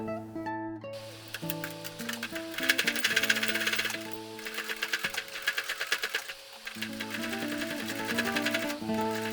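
A sewing machine fitted with a zipper foot stitches beside a zipper on clear vinyl, its needle chattering rapidly and loudly under continuous tonal background music, with a brief pause between runs.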